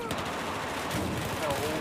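Rapid bursts of Battlefield 4 gunfire crackle throughout, dense and continuous, with a voice faintly mixed underneath.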